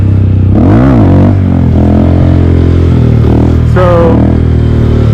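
A Honda Grom motorcycle engine revs hard and loud close by during a wheelie, with rising and falling throttle sweeps and some mechanical clatter.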